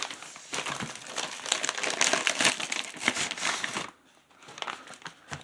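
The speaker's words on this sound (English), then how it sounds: "I don't want to actually rip it. But if I have to rip it, then I have to rip it." A Spanish individual combat ration pack, menu B-2, is ripped open: dense, close crinkling and tearing of the packaging for about four seconds, then it drops to near quiet with a few faint rustles.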